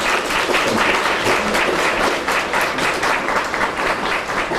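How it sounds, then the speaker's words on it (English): Dense, steady applause from an audience at a university partnership event, loud and continuous throughout without any voices breaking through. "please give all of them a round of applause"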